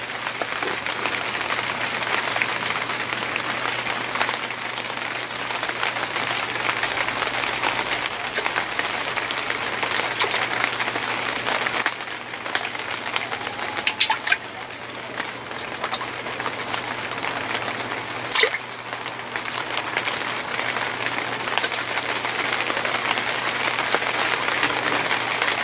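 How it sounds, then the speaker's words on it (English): Freezing rain patters steadily on a greenhouse roof, a dense hiss of tiny ticks and taps with a few sharper clicks, continuous and fairly close, with no talking. "Freezing rain on the greenhouse almost sounds nice."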